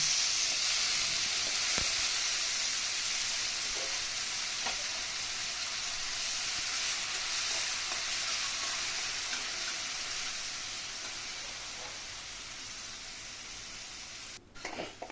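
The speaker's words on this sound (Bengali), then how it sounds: "এদিকে কড়াইতে তেল গরম করে তাতে ছাতুগুলোকে একটু হালকা করে ফ্রাই করে নিলাম।" Mushrooms sizzling in hot oil in a wok, a steady dense hiss that holds evenly and slowly softens toward the end, with a brief clatter at the close.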